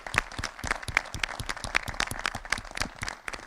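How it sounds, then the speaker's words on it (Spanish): A crowd at an agricultural program launch in Santa Fe claps in tribute to a late leader, with dense, steady applause of many hands filling a few seconds, no voices over it. "Un aplauso para él"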